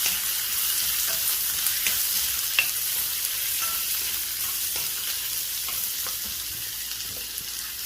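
A large onion sizzles in hot oil with cashews for biryani, a loud, steady hiss of frying close by with occasional stirring clicks, no talking.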